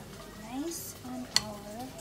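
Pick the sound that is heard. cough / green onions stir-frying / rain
green onions stir-frying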